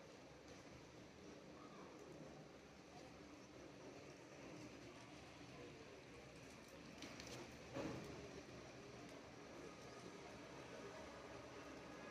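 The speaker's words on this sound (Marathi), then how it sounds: "खूप सध्या पाऊस चालू आहे" Steady heavy rain pours down across the whole stretch as a dense, even wash of noise, with one brief louder swell near the end and no voices.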